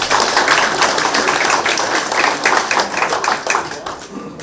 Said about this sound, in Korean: 함께해 주신 모든 분들께 다시 한번 박수 부탁드리겠습니다.